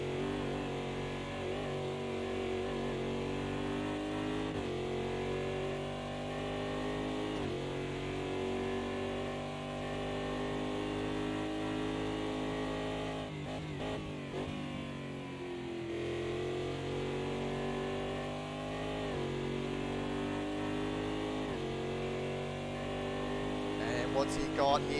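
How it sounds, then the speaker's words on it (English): Race car engines drone steadily as cars circulate at the Monza circuit during an endurance event, a continuous harmonic roar that shifts pitch with gear changes, heard under commentary throughout. "Don't these cars sound great as well?"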